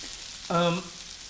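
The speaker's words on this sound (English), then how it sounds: "Okay, that needs to fry just a little bit." Sambal goreng briefly sizzling in a pan, a short burst of frying lasting under half a second against an otherwise quiet kitchen.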